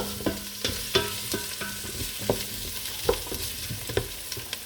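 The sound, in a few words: butter sizzling in a pan with chicken feet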